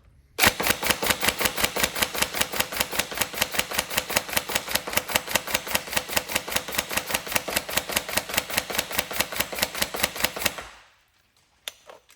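A TM 417 NGRS airsoft gun test-fired on full auto, a loud, close, steady mechanical rattle of rapid shots lasting about ten seconds before stopping abruptly.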